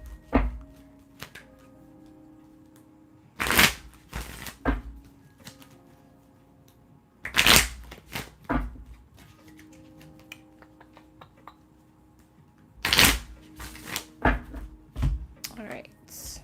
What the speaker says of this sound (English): I want to make sure the cards are very like shuffled for y'all.